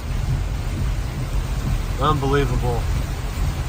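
Heavy storm noise with wind and rain roars steadily and loudly throughout, with low rumbling; someone speaks briefly near the middle over it, in a hurricane-hit area of California.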